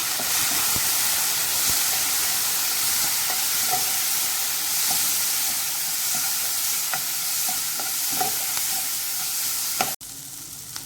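A masala bread mixture with tomato sauce is stirred in a frying pan, a steady sizzle with repeated scraping and clicking strokes of the spoon, close and continuous until it stops abruptly near the end.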